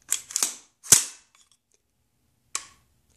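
Three quick sharp trigger snaps from a customized airsoft M4 with reinforced sear springs and a crisp reset, clustered in the first second, then one more isolated snap a moment later, close and dry with no talk.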